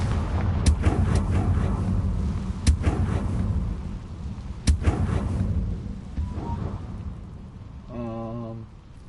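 Confringo fire spell exploding in the Hogwarts Legacy video game, several loud sharp blasts with rumbling debris over a steady dense game backdrop, ending in a brief tonal chime.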